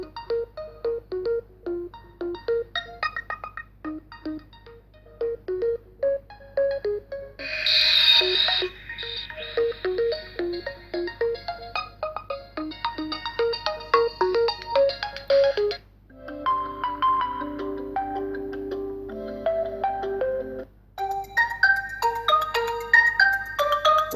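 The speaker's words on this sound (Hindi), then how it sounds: "यहाँ से कुछ रिंगटोन्स चला के देख लेते हैं।" An Oppo A52 phone plays a string of melodic ringtones at full volume, bright electronic tunes changing every few seconds, heard close with no talking.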